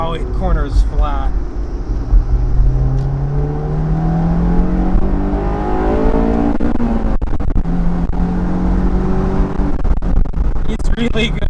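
A Honda S2000 AP2 sports car is driven hard, its engine rising and falling in pitch through revs, downshifts and flat cornering, loud and close from inside the car.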